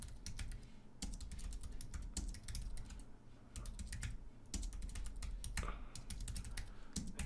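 Computer keyboard typing, rapid close key clicks in quick bursts separated by brief pauses, over a low steady background hum.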